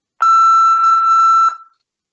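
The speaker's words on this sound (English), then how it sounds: "Leave a message after the beep." A single long electronic answering machine beep, a steady loud tone held for about a second and a quarter, then cut off with a brief fade.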